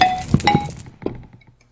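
A Minecraft note block struck a few times after being right-clicked to raise its pitch, giving short bright plucked tones, two close together and then fainter ones, standing alone.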